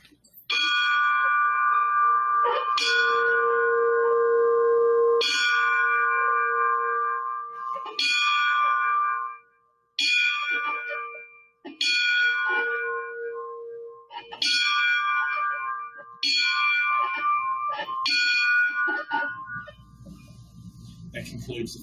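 Nine strikes of a memorial bell toll during a 9/11 tribute ceremony, each a loud, ringing clang spaced about every two and a half seconds, with the tones overlapping as each one decays.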